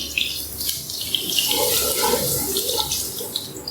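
Finely chopped garlic cloves fry in hot oil while being lightly browned for garlic chicken and vegetable rice, giving a steady, loud, hissing sizzle that continues without speech.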